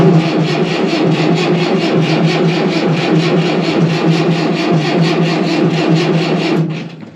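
An old engine being throttled, running in a steady, loud rhythmic chug with a clattering pulse before cutting off abruptly near the end.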